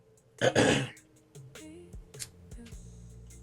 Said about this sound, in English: Just had a cough